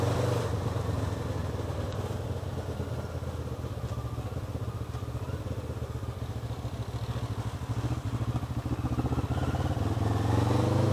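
A motorcycle engine idles steadily while warming up, a continuous close rumble with a fine rapid pulse and light mechanical clatter, no voices over it.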